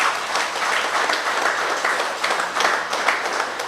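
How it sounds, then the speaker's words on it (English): Audience applause at a security guard services quarterly awards ceremony, a brief, full round of dense clapping at a steady, fairly loud level with no talking. "Let's give them another round of applause."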